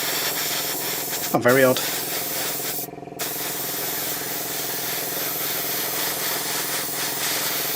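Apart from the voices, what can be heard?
airbrush spraying paint, partly clogged nozzle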